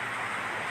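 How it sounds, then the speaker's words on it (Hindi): Rain falling in Korangi, Karachi, heard as a dense, even, broadband wash of noise that stays steady and fairly loud through a very brief moment, with no voices. "बारिश हो रही है बाबा, बारिश माशाअल्लाह।"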